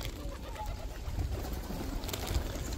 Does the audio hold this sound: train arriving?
no